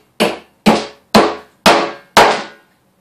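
A hammer pounds into the wood of a Viking round shield: five sharp, evenly spaced strikes, close and loud, each ringing out briefly before the next.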